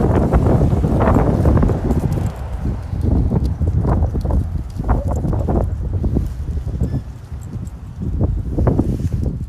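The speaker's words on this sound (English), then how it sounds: "It is so windy." Strong, gusty wind roars continuously, buffeting the microphone with heavy low rumbles and surges throughout.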